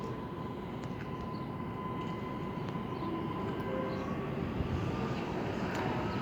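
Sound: Impuls electric train departing Warszawa Wschodnia station

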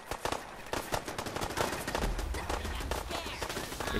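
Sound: gunfire in the video game Fallout 4

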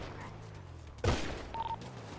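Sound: gunfire in video game GTA

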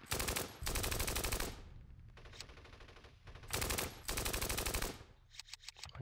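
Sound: gunfire at an infantry squad in the video game Steel Panthers

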